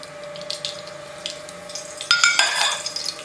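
A soft hiss and crackle of mustard seeds frying in hot oil rises suddenly partway through, with a faint steady hum underneath and no talking.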